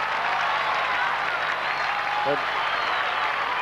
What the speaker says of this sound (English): Applause from the North Melbourne fans has been few and far between, really.